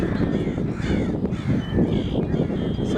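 Huge flock of crows cawing outdoors, many overlapping harsh caws at varying distances forming a continuous noisy chorus.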